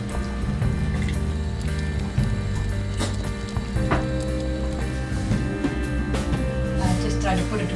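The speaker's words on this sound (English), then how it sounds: "I'm putting some ice water in there." Ice water is poured into apple pie dough, giving a close, continuous splashing trickle with small clicks and drips as the liquid hits the flour mixture.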